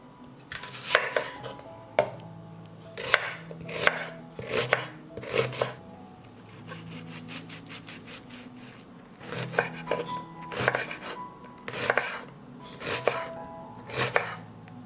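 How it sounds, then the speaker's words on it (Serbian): Rhythmic knife chops on a board cutting onions, bursts of quick strokes with short pauses between them, close and crisp, with no speech. "Iseći ću kilogram luka."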